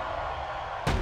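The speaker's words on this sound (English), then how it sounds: "let's use the one arm sit up power bomb" A one-arm sit-up power bomb slam in a WWE video game, a single heavy thud landing near the end after a steady bed of game noise.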